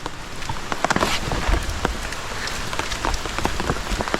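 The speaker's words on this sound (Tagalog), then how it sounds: "Ulan ng ulan." Steady heavy rain patters and splashes on a hard surface, with dense, constant drops close by and no voices.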